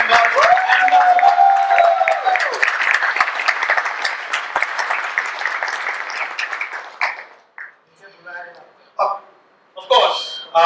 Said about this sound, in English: A big round of applause for my team, community members, and customers.